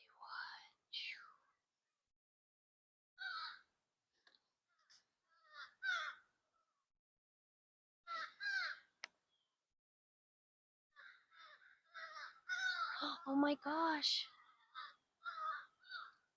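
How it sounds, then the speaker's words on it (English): Outdoors, a crow caws harshly at a hawk overhead while guarding its nest, a few loud repeated calls in uneven bursts, with quiet whispered talk between them. "There was a crow yelling at a hawk."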